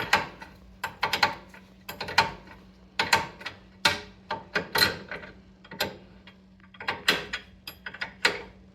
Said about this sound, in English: then we will use the 21 to tighten it all the way down